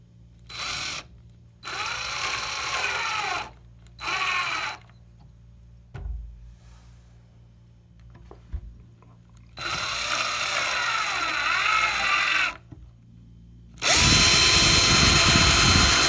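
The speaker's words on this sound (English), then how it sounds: "we'll actually go ahead and screw our fastener in" A power drill drives a fastener into a desk bracket in several bursts of whirring, short spurts at first and then longer runs, with silent pauses between. The last burst is loudest and close.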